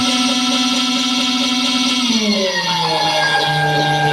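The power feed motor on a PM 728VT benchtop mill runs at rapid speed with a steady, loud, close whine. Partway through, its pitch drops and settles lower as the motor changes speed. No one talks.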